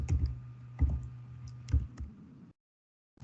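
Keys clatter on a computer keyboard as text is typed into a slide diagram: a few quick bursts of close, crisp clicks, then the typing stops into silence.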